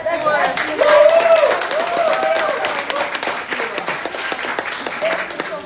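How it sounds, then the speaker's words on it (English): An audience applauds Svetlana at a talk, a burst of clapping that swells early and then thins to scattered claps while a voice speaks and sings over it throughout. "let's clap to Svetlana"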